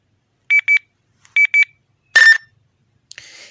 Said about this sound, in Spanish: ¿Te gustaría tener como sería en este caso el sonido de Nextel?